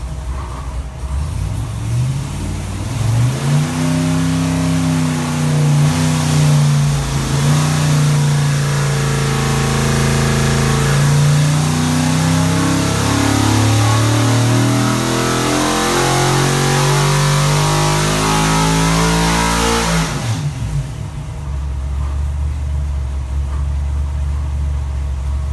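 A stock LS3 V8 with AFR heads and cam, fitted with a single-plane intake and a Holley 950 carburetor, pulls hard on a dyno: one loud, sustained rev that climbs steadily in pitch for about seventeen seconds, then cuts back to a low rumble.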